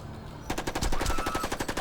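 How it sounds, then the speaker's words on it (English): Rapid gunfire from a horror movie about zombies on a plane, starting abruptly after a quiet moment and continuing as a fast, evenly spaced burst of sharp shots. "did no one on the plane hear gunshots?"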